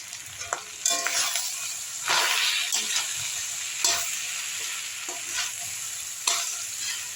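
Cooked rice for chicken fried rice is tipped into a hot pan and stir-fried, giving a continuous sizzle punctuated by repeated scraping stirs of the spatula, close and fairly loud, with no talk.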